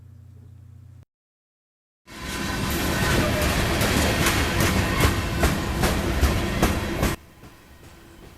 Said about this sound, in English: This train is the 14R and is moving north through Sunbury